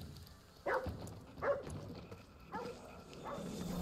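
A dog in Ghostwire: Tokyo gives four short, fairly quiet barks spaced unevenly over a few seconds against a low game background.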